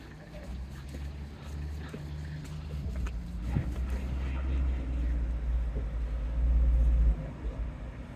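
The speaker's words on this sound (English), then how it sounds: "Nice little car." A small car rumbles past on a windy Teignmouth seafront, a low engine drone swelling and fading over steady wind noise, with a person talking nearby.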